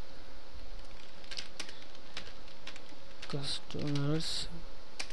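A computer keyboard is tapped in irregular soft clicks at close range, typing a short message, while someone speaks briefly partway through over a steady background hum.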